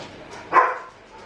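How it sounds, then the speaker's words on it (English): One short, sharp dog bark rings out at moderate distance during a dog fight, rising and fading within a second. "Sounds like a dog fight."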